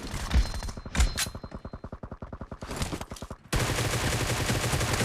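Gunfire in the mobile game PUBG Mobile: a couple of sharp shots, then a long rapid burst of automatic fire, followed by a brief pause and a wash of steady game noise.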